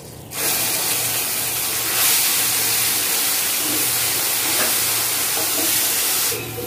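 Tomato paste hits hot oil in a wok while cooking a masala paneer dish, bursting into a loud, sustained sizzle and hiss that holds steady for several seconds before cutting off.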